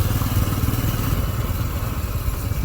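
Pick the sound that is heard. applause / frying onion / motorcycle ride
motorcycle ride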